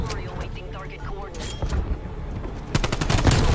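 An AK-74u airsoft gun fires a sharp, close burst of rapid clattering shots near the end, following quieter background noise with voices.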